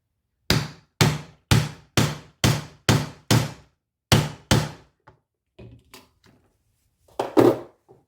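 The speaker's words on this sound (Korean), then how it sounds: "자, 그럼 타공을 해볼게요." A hammer drives an oval punch through a leather belt with seven loud, hard thuds at a steady pace, a short pause and one more blow, followed by quieter handling and rustling sounds nearby.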